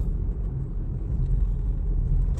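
Steady low engine and road rumble from inside a car being driven at night, a continuous close drone with no talk.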